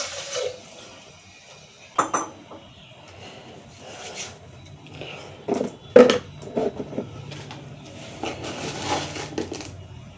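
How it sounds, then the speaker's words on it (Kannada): Water is poured over washed rice in a pot, giving a few splashes and trickles with knocks of the vessel in between, fairly close and moderately loud. "ಎರಡು ಗ್ಲಾಸ್ ನೀರು ಹಾಕ್ತಿದ್ದೀನಿ."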